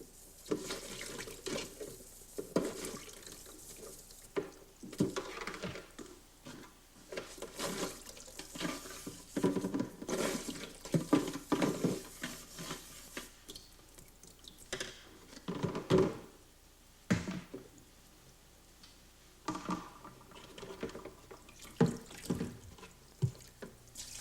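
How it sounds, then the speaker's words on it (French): Hot water runs from a kitchen tap as beer-brewing equipment is rinsed clean of detergent, with uneven splashing, gurgling and drips, fairly close and quiet throughout. "vous devez rincer à l'eau chaude du robinet pour vous assurer qu'aucune trace de détergent ne subsiste"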